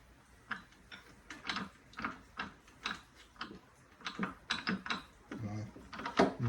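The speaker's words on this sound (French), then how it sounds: "il faut dévisser à fond pour pouvoir sortir la contre-lame" Ratcheting clicks come from unscrewing the counter-blade of a garden shredder, with a regular series of sharp mechanical ticks, close and moderately loud, repeating roughly twice a second.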